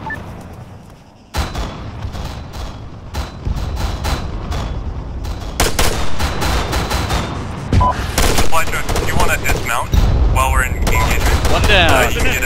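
Heavy gunfire crackles through an Arma 3 battle against enemy Ifrit vehicles: dense, loud bursts of automatic fire and rapid shots that begin after a short quiet lead-in, with voices shouting over the firing.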